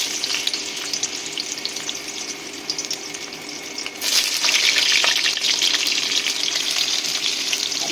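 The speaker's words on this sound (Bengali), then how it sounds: "এবারে আমি এখানে পটলগুলো ভেজে নেবো।" Pointed gourd pieces fry in leftover oil in a wok, a continuous close sizzle that jumps noticeably louder and busier halfway through as more pieces go in, then holds steady.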